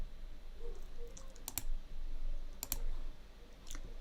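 Computer mouse clicking close and crisp, a double click then another pair a second later and one more single click, with no talk over it.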